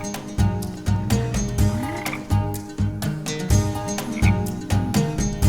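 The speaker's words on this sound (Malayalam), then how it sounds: "പച്ചത്തവള ഊതിയപ്പോഴത്തേക്ക് വേഗം വന്നല്ലോ" A green frog croaks in a loud, rapid, repeating rhythm, close and continuous throughout, with no talking.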